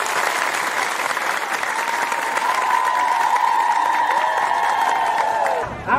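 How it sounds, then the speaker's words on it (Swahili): A crowd gathered at a refugee repatriation event in Palma, Mozambique breaks into sustained loud applause mixed with cheering and high whistling, steady throughout before cutting off abruptly at the end. "Wetu wapigie makofi."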